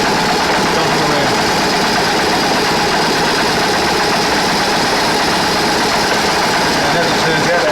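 A 2001 BMW R1150RT motorcycle with its boxer twin engine idling during a throttle body sync, a loud, close, steady low rumble with even vibration and no talk.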